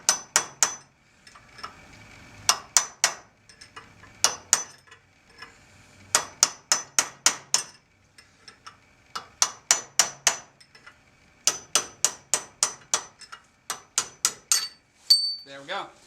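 A hammer strikes a brass rod drift to drive out a wheel bearing on a 1987 Porsche 944, sharp ringing metallic taps in quick bursts of several blows separated by short pauses, close and distinct.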